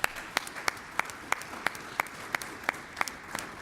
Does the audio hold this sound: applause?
yes